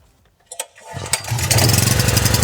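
A Rolwal petrol generator (RB-J-GE3800X / RB-J-GE3000X) starts up. After a near-silent moment, a couple of sharp pull clicks lead into the engine catching and rising into a loud, steady, close-up running chug.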